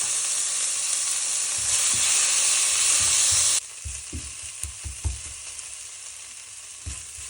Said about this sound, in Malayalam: ഇത് നന്നായിട്ടൊന്ന് സോട്ട് ചെയ്ത് വരണം